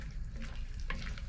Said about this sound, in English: I'll give that a stir in.